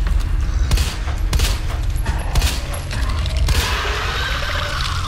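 Gunshots in Resident Evil 2 Remake, several loud, sharp blasts spaced irregularly over a dense, noisy game soundscape, followed by a crunching, splattering tail.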